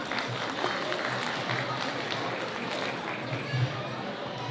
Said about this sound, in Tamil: பிருந்தாவனி தில்லானாவிற்கு ஒரு கைத்தட்டுகள் கொடுத்துடலாமா?